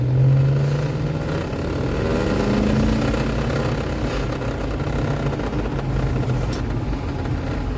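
A Mercedes ML500 W163 SUV, back on the road after four months parked, gives off a steady low engine drone and road rumble from inside the cabin, with gentle shifts in pitch as it moves.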